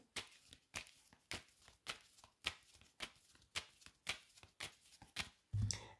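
A deck of oracle cards is shuffled and cut by hand, giving about ten crisp, evenly spaced riffling bursts. The sound is close and quiet, and a soft thud near the end marks the cut. No speech.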